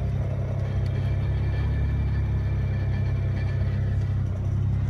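A BMW N54 engine idles steadily with the clutch pedal held down on a newly fitted Xtreme twin-plate organic clutch, a constant low drone and faint rattle that stays even throughout with no voices.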